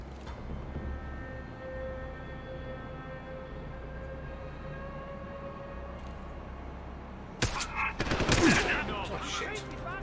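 A sudden crackle of gunfire in a first-person shooter, a headshot, breaking out near the end after a long stretch of steady droning background tones, loud and close.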